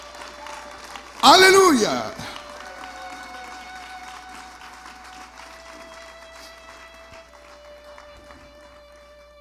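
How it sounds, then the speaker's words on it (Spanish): A church congregation applauding during a sermon: a loud shouted exclamation opens the sound, then clapping carries on at a moderate level and slowly fades, with other voices mixed in. "Dale un aplauso al Señor."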